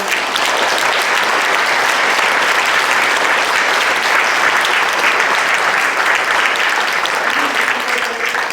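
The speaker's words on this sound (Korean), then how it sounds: "목사님의 뜨거운 박수 한번 부탁드리겠습니다" A congregation at a Korean church sending-off service for a pastor claps warmly, a steady, dense and loud wash of applause that holds without pause throughout.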